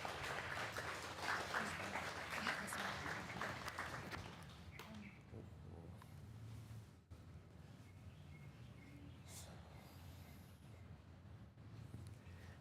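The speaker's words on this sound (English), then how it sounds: "please applaud him to give him a warm welcome" An indoor audience at a sunset peace gathering claps in warm welcome, dense applause for about five seconds that fades into quiet room tone with faint chirps.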